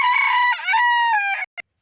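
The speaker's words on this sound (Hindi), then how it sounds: "ये मुर्गा मेरा है" A rooster gives one loud, close, full crow with a drawn-out wavering call, ending in a brief clipped cluck before silence.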